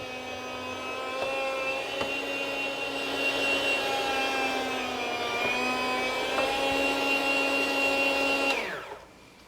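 Electric meat slicer cutting homemade smoked bacon: a steady motor whine with a constant high tone holds for about eight and a half seconds, then winds down and stops, close and alone without talk.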